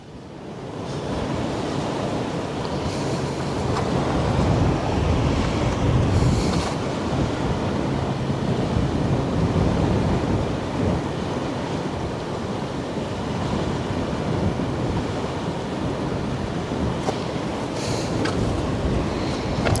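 Wind gusting along the Westerschelde shore in the Netherlands, a sustained loud rushing roar with buffeting swells that rises early and stays strong for the whole stretch, with no voices.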